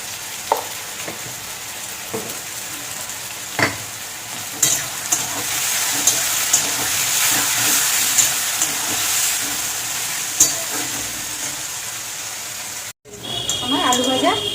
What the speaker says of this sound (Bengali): আমার আলু ভাজা হয়ে গেছে, দেখুন।